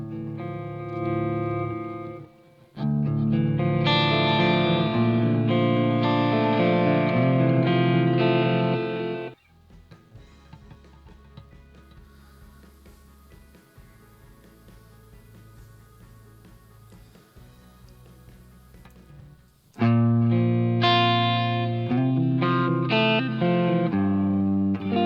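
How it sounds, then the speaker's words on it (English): Electric guitar played through a modded chorus echo effect on a Line 6 HX Stomp, with bursts of shimmering, echoing chords and notes, a quieter stretch of softer picking with repeats in the middle, then strong playing again. "Modded chorus echo sounds like it might be something cool"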